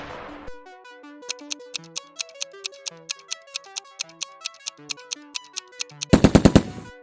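A short burst of four or five rapid PARAFAL rifle shots from the video game PUBG cracks out loudly at the end, after a long run of evenly spaced ticking tones.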